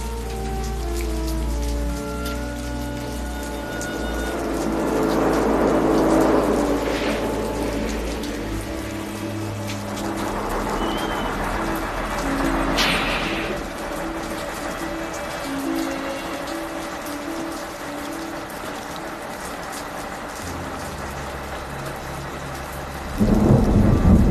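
Heavy rain pours steadily through a dark night storm, with rolling thunder rumbling low and a loud crack of thunder near the end, no voices.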